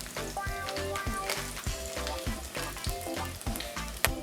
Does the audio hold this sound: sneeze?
no